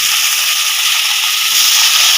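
Water lily stems sizzling as they hit hot oil with fried onion in a pan, a loud, dense, steady hiss throughout.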